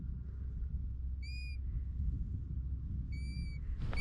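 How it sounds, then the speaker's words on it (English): Two clear, plaintive whistled calls from a golden plover on an Icelandic hiking trail, each a short single note, separated by a pause, over low wind rumble outdoors. "These golden plovers have got to be one of my all-time favourite little birds."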